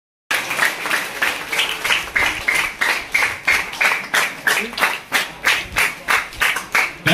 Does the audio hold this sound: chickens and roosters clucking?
no